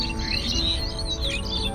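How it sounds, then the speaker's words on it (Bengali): Evening birdsong fills the air, with several birds chirping and twittering together in a continuous overlapping chorus at moderate distance, steady in level and free of talk. "পাখিদের কিচিরমিচির"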